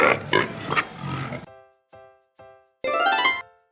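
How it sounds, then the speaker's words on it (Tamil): A pig grunts and oinks in a few short, close calls after a brief stretch of music, ending in one longer, louder squeal. "நான் தான் பன்றி."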